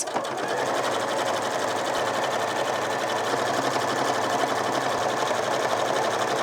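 A sewing machine runs continuously, topstitching a chain of fabric pockets, its fast even needle rhythm loud and close, steady for the whole stretch with no talk.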